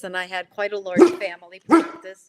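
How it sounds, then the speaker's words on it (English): A pet dog barks twice, short sharp yelps at home, heard under and between a person's steady talking. "Sorry, that's my dog."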